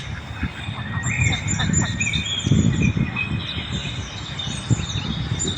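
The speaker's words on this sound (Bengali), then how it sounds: "এই যে চীনা হাঁস, এগুলো হচ্ছে দেশি হাঁস, এটা হচ্ছে চীনা হাঁস" Chinese ducks quack and honk repeatedly at close range by an artificial pond in Aspire Park, Doha, a busy chorus of calls over steady outdoor background noise with faint chirps above.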